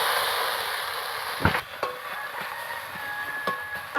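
Onion paste dropped into hot oil in a kadai sizzles steadily at close range, with a few sharp crackling pops breaking through the continuous hiss.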